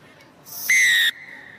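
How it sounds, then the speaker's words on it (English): A referee's whistle blows a single sharp, shrill blast lasting about half a second to start a women's rugby sevens match in Clermont-Ferrand, heard over quiet stadium ambience. "So this is the whistle for the opening game here in Clermont-Ferrand"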